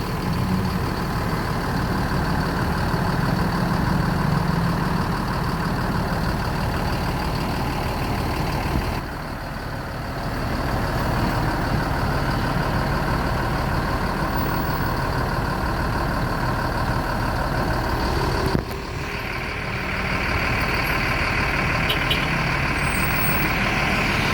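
Steady heavy diesel rumble from a Jetbus 5 tour coach carrying a tour group, with two sharp hissing releases of air brakes breaking the continuous engine drone.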